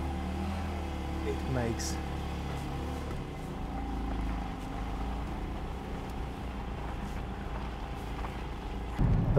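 Porsche 718 GT4's 4-liter engine on a cold start, a steady low rumble and idle drone under someone talking throughout, with a brief louder burst near the end.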